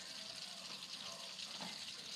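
Water poured off from a cooking pot of corn, a steady broad rushing splash that runs continuously and evenly throughout.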